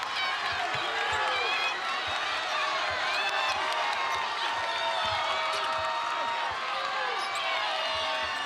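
A crowd cheers steadily at a state championship boys high school basketball game between Freeman and Amherst, with continuous loud roar and whistles, sneakers squeaking and a ball bouncing, and a commentator talking over it.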